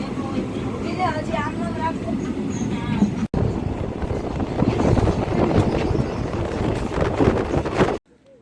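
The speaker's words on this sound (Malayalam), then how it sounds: "ഏതോ ട്രെയിൻ കടന്നു പോകാൻ വേണ്ടി നമ്മുടെ വണ്ടി അല്പനേരം പിടിച്ചിട്ടതാണ്." A train rumbles past nearby while the listener's train waits, a loud continuous clatter and roar for several seconds, with faint murmuring voices, before it cuts off abruptly.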